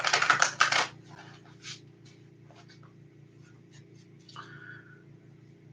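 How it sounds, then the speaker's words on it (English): Tarot cards shuffled by hand at close range: a dense riffling burst at the start, then scattered soft taps and slides of the cards, with no speech. "let's shuffle the cards here."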